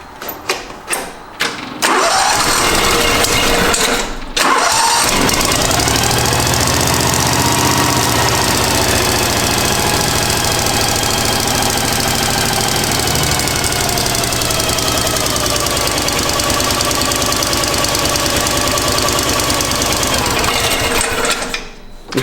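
A John Deere Gator after repair: a few clattering cranking bursts, then the engine catches and settles into a loud, steady, close idle with a faint knocking rhythm that runs to the end before cutting off.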